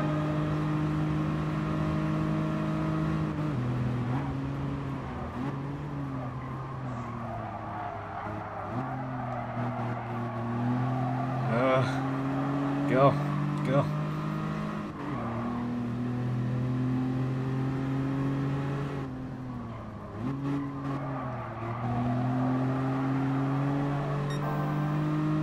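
Race cars in Gran Turismo Sport on the final lap, engines holding steady high-pitched drones that dip and climb through gear changes, with brief sharper bursts as cars close in, continuous and loud throughout.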